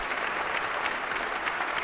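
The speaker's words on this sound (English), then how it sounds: "Whoa, clapping." A steady burst of applause from a crowd in a video game, dense clapping at moderate volume without pauses.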